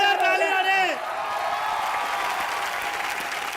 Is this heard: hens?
no